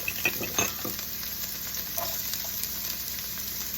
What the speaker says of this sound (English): we're gonna saute the veggies